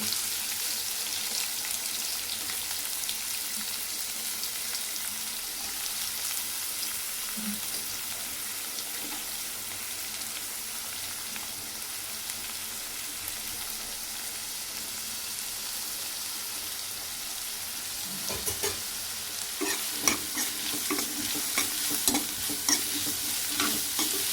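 Mustard seeds, cumin and onion sizzle and crackle steadily in oil in a pan for a long stretch, tempering for a pigeon pea sambar, with occasional stirring clinks and scrapes growing busier toward the end.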